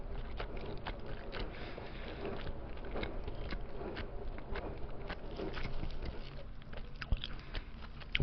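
Close, crunchy chewing and biting of day-old crispy fried finger chicken with bones, repeated bites with soft mouth sounds, no talking.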